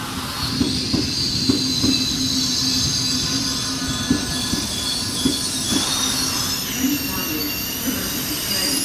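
A Trenitalia regional train from Venezia Santa Lucia rolls into a platform at Venezia Mestre station with rhythmic wheel clacks and high metallic squeals, loud and close, over a steady rumble.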